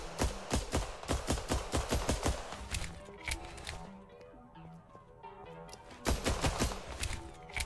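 Pistol shots fired in the Galactic Vault video game demo: rapid bursts of sharp, close shots in quick rhythm, a pause with ambient tones, then another fast string of shots.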